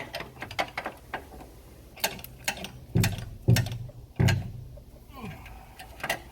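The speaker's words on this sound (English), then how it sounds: "my 12 shallow wheel on a ratchet to tighten the lower one" A ratchet with a 12 mm shallow socket tightens the lower alternator bolt on a Honda Civic, giving rapid clicking bursts and a few heavier clunks close by, with faint talk in places.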